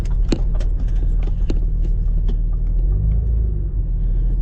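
A 2001 Ford Expedition truck drives along, its low engine rumble steady and close, with scattered clunks and knocks over the road noise.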